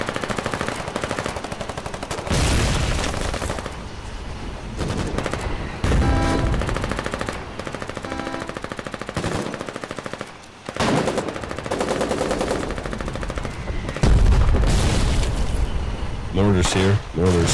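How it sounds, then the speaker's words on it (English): Rapid machine-gun and rifle fire crackles through a Foxhole battle near a bunker base, dense bursts repeating loudly throughout, with voices shouting over the shooting. "They're shooting."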